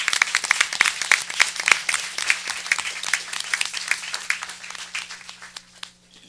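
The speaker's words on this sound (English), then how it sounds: "Let's give a round of applause to these award-winning artists." Audience at a Richland School District Two board of trustees meeting applauding award-winning student artists, a dense burst of close hand clapping that thins out and fades after about six seconds.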